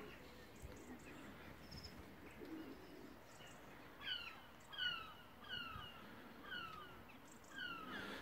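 Rare-colour pigeons coo in an aviary, with soft repeated coos and a few brighter chirps rising and falling over a steady low background murmur.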